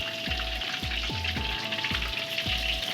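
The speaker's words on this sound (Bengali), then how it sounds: "এখানে পকোড়া ভাজা হচ্ছে" Chicken pakoras sizzle and crackle steadily in hot oil, a constant close frying hiss with a low hum and periodic dull knocks underneath.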